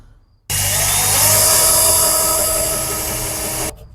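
A power drill bores a hole sized to fit a cable through material when fitting outdoor protection for electrical equipment. The drill starts abruptly, runs as one loud, steady, high whine for about three seconds, then stops sharply.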